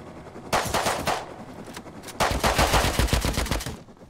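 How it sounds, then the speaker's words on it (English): AK rifle gunfire in the wooded map of the video game Rust, two loud bursts of rapid automatic shots with a pause between them, no talking. "I hear AK."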